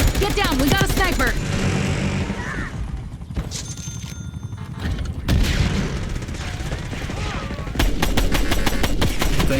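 Rapid automatic gunfire rattles in the video game Black Ops 6, with fast bursts of shots, booms and clanking mechanisms, loud and close, and voices speaking among the shooting.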